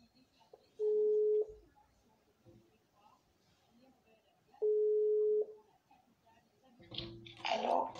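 Two long, steady telephone ringback tones sound on the line before the call is answered, separated by a pause, with faint background noise and a voice at the end.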